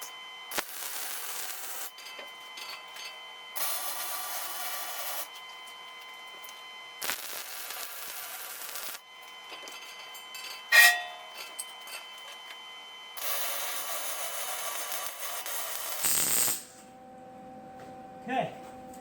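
Steel welding table frame being MIG or stick welded at its joints, giving several long crackling, hissing bursts of arc noise separated by short pauses, with a sharp clank partway through and a faint tonal hum near the end.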